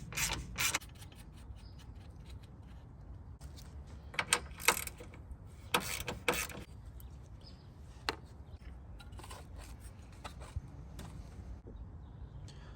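A wrench loosens the 10mm nut on the battery hold-down strap of a Toyota Corolla, with a series of close, sharp ratcheting clicks and scraping bursts spread unevenly over the stretch, and no voices.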